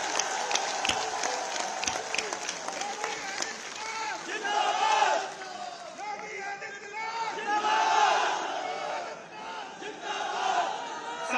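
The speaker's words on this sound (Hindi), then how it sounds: "मैं चाहूंगा खड़े होकर एक बार जोरदार तालियां बजाकर" Crowd at a public inauguration and foundation-stone ceremony for development projects, clapping and cheering loudly in a sustained, dense wash of applause with scattered shouts, swelling around the middle and again later.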